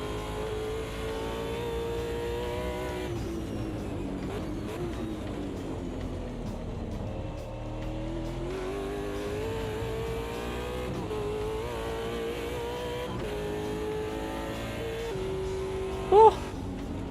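Race cars in a racing video game drone steadily around a track, engine notes rising and falling through gear changes, with occasional voices in the background.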